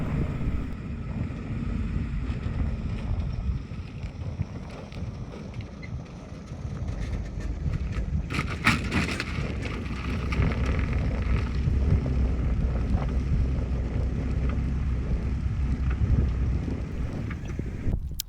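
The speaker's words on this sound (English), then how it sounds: "Traction board shoots out, wheel spins, nothing happens." A vehicle wheel spins on a Go Treads traction board, giving a steady, loud roar with gritty scraping and a sharper rush partway through that persists to the end.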